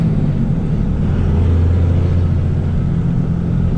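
A 2001 Dodge Ram 2500 Cummins diesel pickup with a six-speed manual transmission drives along, its engine giving a steady, loud low rumble throughout with no clear break where a gear change is heard.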